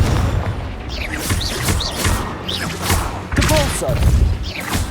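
Confringo fire-blast spell explosions in the Hogwarts Legacy video game, a run of booming thumps and crackling bursts at a steady pace, loud and close, with shouted voices over the combat.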